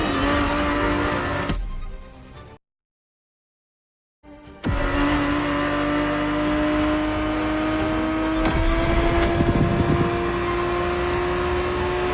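Ferrari 365 GTB4 in The Crew Motorfest racing game, its engine droning and rising in pitch under acceleration, cut by a roughly two-second silence before the loud, steady engine note returns.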